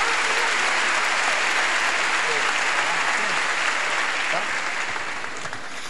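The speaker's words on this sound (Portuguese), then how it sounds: "Aplauda Ele" A church congregation applauding during a worship service, a broad sustained wash of clapping that holds steady and then eases slightly toward the end.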